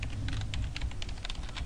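Steady, quick keystrokes clatter on a computer keyboard during map editing, close and moderately quiet, alone without speech.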